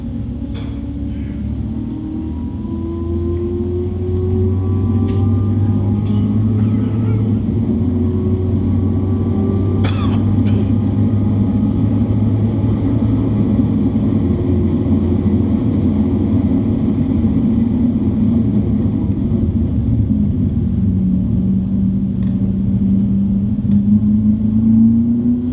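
2016 Corvette lapping the VIR racetrack, its engine droning loudly and steadily in-car, pitch rising and falling through gear changes and revving, with a faint click partway through.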